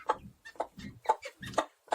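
Village chickens and a rooster cluck in a quick series of close, choppy calls with short gaps between them.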